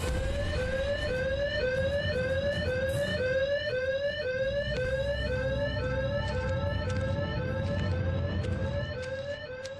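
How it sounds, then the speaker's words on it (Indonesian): A school alarm sounding in the horror game Evil Nun, a loud electronic whoop rising in pitch over and over in quick, even repeats, continuous and alone. "ternyata alarm dari sekolah berbunyi sehingga si Evil Nun sadar kalau kita pergi"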